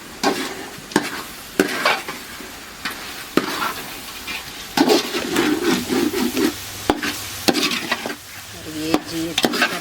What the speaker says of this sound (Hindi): और ये जी अच्छी तरह मिक्स कर लेंगे